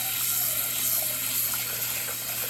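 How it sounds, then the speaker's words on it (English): Water runs steadily while a tea pot is rinsed out during sweet tea making, a constant close splashing stream with no talk. "rinse out the pot"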